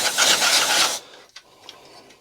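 Compressed air blasts into the burner tubes of a Bryant furnace as a loud, broadband hiss that lasts about a second and cuts off abruptly, followed by a few faint clicks and knocks.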